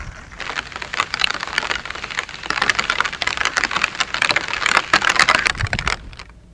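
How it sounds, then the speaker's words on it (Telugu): Heavy rain from a Bay of Bengal depression falls across Srikakulam district as a loud, dense, continuous patter of drops close at hand, with no voices. "బంగాళాఖాతంలో ఏర్పడిన వాయుగుండం ప్రభావంతో శ్రీకాకుళం జిల్లా అంతటా విస్తారంగా వర్షాలు కురుస్తున్నాయి."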